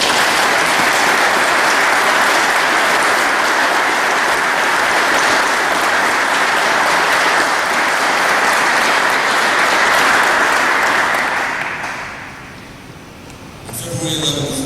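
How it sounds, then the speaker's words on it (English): A large audience at a barracks building dedication breaks into loud, dense applause. The applause holds at full strength for about twelve seconds, then fades off quickly near the end. "Please join me in a round of applause for this."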